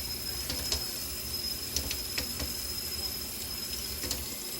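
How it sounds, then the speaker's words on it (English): Cold water runs from a kitchen tap over shrimp being rinsed in a sink, a steady close splashing stream with a few brief clinks and spatters and no talking. "You want to make sure you always use cold water when you rinse the meat."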